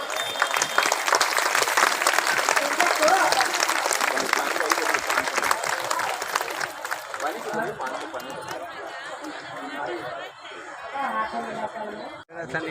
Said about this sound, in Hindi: आप लोग जोरदार तालियों से इनका स्वागत कर दीजिए।